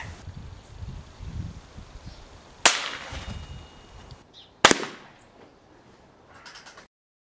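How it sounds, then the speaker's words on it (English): Two sharp, loud cracks about two seconds apart from a Sussex Armoury Jackal air rifle shooting 14.3-grain BSA pellets at a target, each shot standing alone over quiet background rustle. "I know I said I was going to fire 10 pellets, but I actually fired, I think it was 13 pellets in the end"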